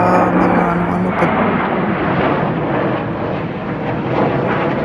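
A fighter plane and a helicopter fly over a Finland Independence Day parade, a loud broad roar that holds steady throughout.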